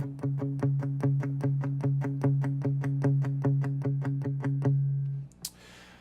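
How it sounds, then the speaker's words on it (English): An electric guitar plays a tight palm-muted part in a steady dotted-eighth rhythm, about twenty chugging plucks at an even pace, dry and close, ending with a short scrape. "the first guitar part that we're going to go over is this little dotted eighth kind of palm muted part"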